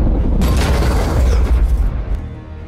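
A heavy, loud boom rolls out and rumbles on, a single deep cannon-like blast with a long low tail.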